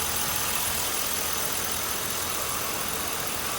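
A loud, steady engine roar runs continuously with a rough, noisy texture, close up and without any talking.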